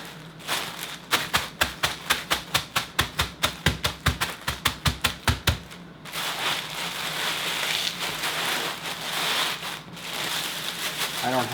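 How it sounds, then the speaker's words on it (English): Crackers for popcorn chicken coating crushed by hand inside a plastic bag, a rapid run of sharp crinkling crunches for about five seconds, then steady softer rustling and crackling. "And then just crush them. I do it by hand."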